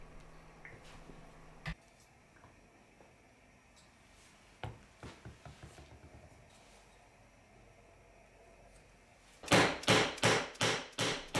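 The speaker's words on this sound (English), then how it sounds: "I used my plastic dead blow hammer to drive the closet rods into the legs" A few scattered knocks, then a quick run of six or seven firm blows from a plastic dead blow hammer driving wooden closet rods into garden bench legs near the end, close and fairly loud.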